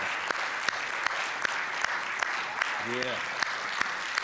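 An audience claps at a talk, a light spread of hands with a few sharper individual claps spaced through it, while a voice briefly speaks over the applause.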